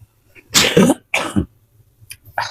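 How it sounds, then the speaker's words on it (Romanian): Two forceful sneezes burst out close up in quick succession, followed by softer breathy throat sounds, in an indoor room with air conditioning. "Îmi cer scuze, dacă nu strănut de la polen, strănut de la aerul condiționat."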